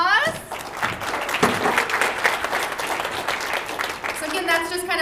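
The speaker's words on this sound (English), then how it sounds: "How about a round of applause?" An audience at a chamber of commerce candidates night claps loudly for several seconds, dense applause filling the room while a speaker talks over it.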